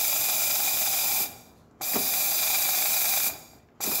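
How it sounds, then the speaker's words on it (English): Loud, steady hiss of steam from the wand of a Rancilio Epoca espresso machine, cut off twice briefly as the valve closes and reopens, with a faint click at each restart. "Nice strong steam."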